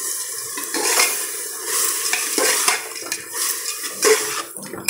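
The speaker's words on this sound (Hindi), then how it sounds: "चने की दाल को हम इसमें डाल देंगे" Soaked chana dal lentils are tipped into a pot and stirred, producing clinking metal, wet stirring and faint sizzling for Chhath Puja kaddu bhat, with uneven scrapes and clatters close by.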